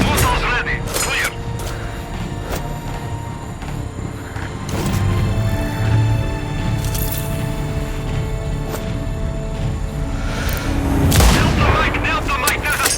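Mortar artillery fire in the video game Sniper Ghost Warrior Contracts 2: heavy booming blasts land at a few points amid a dense, rumbling battlefield din, with voices heard under the noise.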